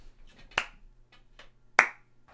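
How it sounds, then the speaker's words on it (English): Two sharp, isolated claps ring out about a second apart, with faint murmuring voices and a low hum in the background. "We have to get up and clap now."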